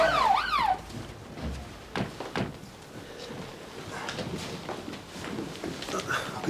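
An ambulance siren wails briefly at the start, rising and falling as it arrives in a 1992 British police drama scene, then gives way to thuds, movement and low background sounds.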